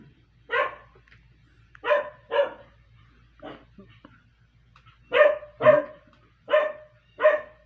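A dog barks repeatedly nearby, single and paired barks spaced irregularly, against a quiet background.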